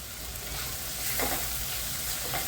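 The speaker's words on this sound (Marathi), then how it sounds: "मऊ होईपर्यंत आपण भाजून घेणार आहे छान." Onion and tomato with salt sizzle steadily in a pan with ginger and garlic while being roasted until soft. The hiss is close and constant, with a few soft stirring scrapes.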